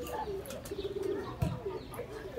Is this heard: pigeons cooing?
yes